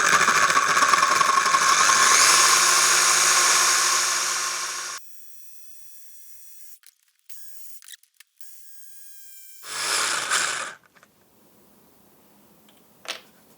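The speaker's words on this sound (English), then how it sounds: "We're gonna take our handy dandy Milwaukee Sawzall, freaking best tool of all time, and we're just gonna chop this sumbitch right off" A Milwaukee Sawzall reciprocating saw cuts through a metal vehicle frame in one loud, sustained buzzing burst for about five seconds, then quiet gaps with short clicks and a brief second saw burst.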